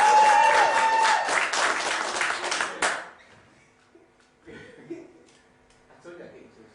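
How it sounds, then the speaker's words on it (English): Audience applause at a live comedy mind-reading show, dense loud clapping that cuts off sharply after about three seconds, followed by quiet room sound and a few scattered voices talking. "A round of applause for Jog."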